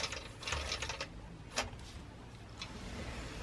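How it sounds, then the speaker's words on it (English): A sewing machine running briefly to make a few tie-off stitches in quilting, giving a short mechanical whir with rapid ticking needle strokes, close and moderately loud, with no talking. "I'm going to do a few tie-off stitches"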